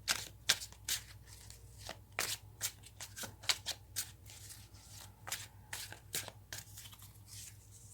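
A deck of tarot cards shuffled by hand, crisp riffling bursts and soft flicks repeating in an uneven rhythm, close and fairly quiet with no talking.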